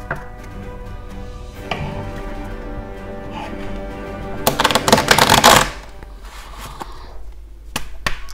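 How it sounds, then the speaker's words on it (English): A full deck of playing cards is shuffled at close range: soft scattered taps, then a dense loud riffle burst lasting about a second, followed by a few crisp single snaps, with no talk. "I'm gonna shuffle the deck completely."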